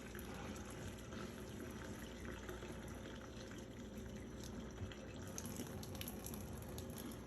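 Steady broadband rush of water pouring from a pot of spinach pasta into a kitchen sink drain, continuous and fairly close throughout with no talking.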